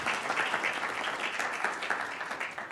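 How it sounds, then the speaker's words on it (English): A moot court competition audience applauds with dense, continuous clapping, fairly loud and steady throughout. "Let's give them a round of applause."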